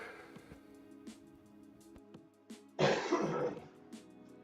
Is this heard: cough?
yes